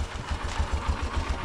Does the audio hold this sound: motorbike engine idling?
yes